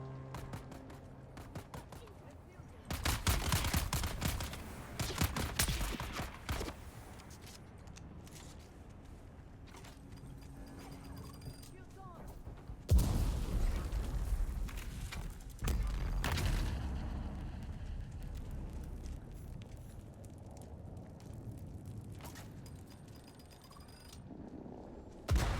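Bombs explode in the Dune Awakening video game, two heavy bursts of booming, crackling blasts a few seconds each, separated by quieter rumbling stretches, with a player talking over parts of it.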